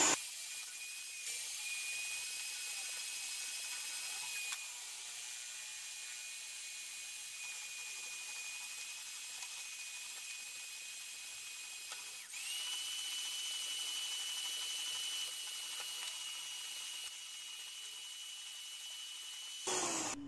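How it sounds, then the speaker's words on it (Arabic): An electric hand mixer whips eggs with sugar for a carrot cake batter, giving a steady, close, high whine that runs almost unbroken, with slight shifts in pitch and loudness along the way. "من بعد غادي نخلط بالبعتوغ حتى يطلع ليا الحجم ديال البيض"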